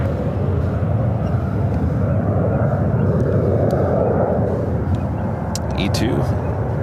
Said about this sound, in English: United 777 heading out to the 28s.